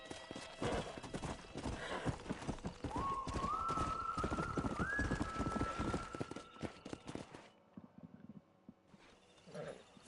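Horse hooves clip-clop steadily up close in Red Dead Redemption, with a whinny rising partway through, before the hoofbeats stop and a brief voice comes in near the end.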